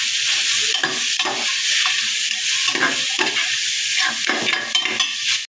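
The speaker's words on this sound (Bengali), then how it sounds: "এবার এগুলো আমি একটু 1 মিনিটের মতো ভেজে নিব।" Ground dried chili and turmeric powders fry in hot oil in a pan, a steady loud sizzle with repeated scraping stirs through the whole stretch.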